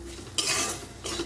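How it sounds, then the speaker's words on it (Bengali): Spices being stirred together in a pan for spicy masala fried potatoes with fried cumin, a utensil scraping in two short bursts of clattering, close and fairly loud, with no voices. "তো সব কিছু এবার একসঙ্গে আমি ভালো মতো নেড়ে নিচ্ছি।"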